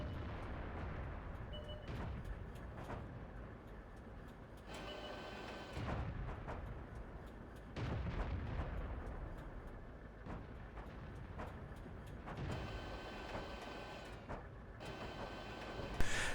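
Tank cannon fire in World of Tanks from an M5A1 Stuart on the Malinovka map, several booming shots and blasts spread across the stretch amid continuous engine rumble and battle noise, fairly quiet overall.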